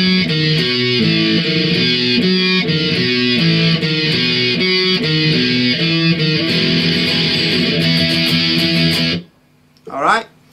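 Distorted electric guitar plays a verse riff, a driving strummed pattern that runs steadily and loudly before cutting off, followed by a brief voice.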